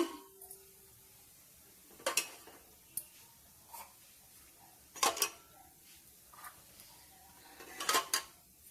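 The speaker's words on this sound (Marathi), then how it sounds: "आता असा पातेला ठेवायचा" A few scattered metallic clinks and knocks of cookware being handled, with a louder clatter near the end as a pot is set down in a quiet kitchen.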